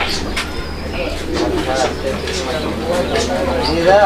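Young pure-bloodline pigeons being handled and shown, giving soft low coos and rustles close by, mostly under someone talking throughout.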